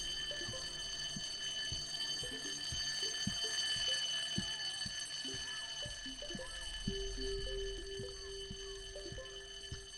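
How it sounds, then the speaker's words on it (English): A shrill, steady fire-alarm-like tone sounds in a low-poly video game. High sustained pitches drone throughout, with a rhythmic pattern of clicks and chiming blips underneath and a brief low rumble partway through. "I know it's not screaming, but it sounds like a fire alarm to me."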